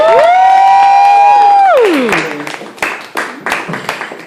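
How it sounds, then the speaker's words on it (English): Open mic crowd at 353 Studios gives a featured artist a round of applause and cheers, following a long sustained sung or whooped tone, with scattered claps and shouts rising loud and close. "Let's give a big round of applause"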